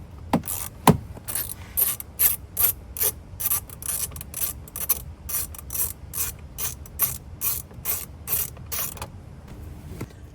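A ratchet clicks steadily while loosening T30 bolts that hold the steering wheel airbag on a third-generation Toyota Tacoma, a rapid close-up rhythm of pawl clicks repeating in even strokes for about ten seconds.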